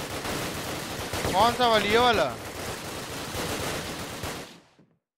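Rapid machine gun fire in a video game, a dense crackling stream of shots under a short burst of spoken voice, then cutting off into silence.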